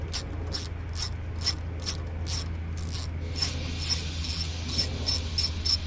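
Rapid clicking of a ratchet wrench loosening 10 mm bolts on the front coil of a Honda VTX motorcycle, a steady run of sharp close ticks over a low background hum, with no talking.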